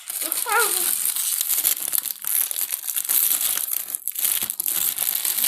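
Crinkly plastic packet of a Wakuku toy is scrunched and torn open up close, a continuous rustle with a voice briefly audible.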